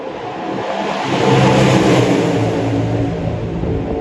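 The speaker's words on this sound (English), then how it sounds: "And that is the sound of just one" Single motorcycle engine revving up and surging past on the Manhattan Bridge, a loud mechanical roar that swells then holds steady; no voices.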